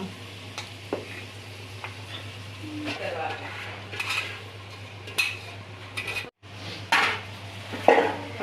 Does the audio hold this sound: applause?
no